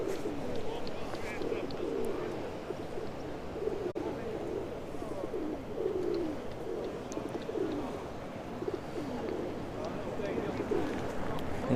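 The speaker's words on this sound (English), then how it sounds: "So many pigeons." Pigeons coo softly and repeatedly in a public spot in Porto, a low burbling murmur spread across several birds, with distant crowd chatter and city noise underneath.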